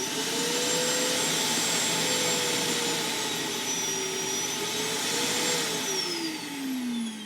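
An Oreck DutchTech DTX1400 upright vacuum cleaner runs steadily after a repair, a loud, continuous motor whine with a wavering pitch that sags toward the end, alone with no talking.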